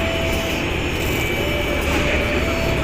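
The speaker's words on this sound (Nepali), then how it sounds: "यही हो मेट्रो यहाँको अन्डरग्राउन्ड मेट्रो" An underground metro train in Romania rumbles and whines steadily, a loud dense roar with a thin tonal hum running through it, heard up close in a station or carriage without talking.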